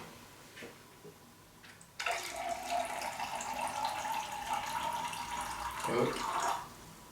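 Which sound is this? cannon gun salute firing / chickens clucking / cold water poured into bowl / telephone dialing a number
cold water poured into bowl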